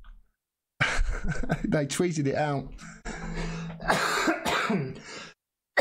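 A man clears his throat and coughs harshly between stretches of his own speech, close to the microphone.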